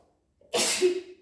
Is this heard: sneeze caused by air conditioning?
yes